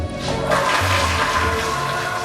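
A toilet flushes in a bathroom, a steady rushing swirl of water that runs continuously and loudly with no voices over it.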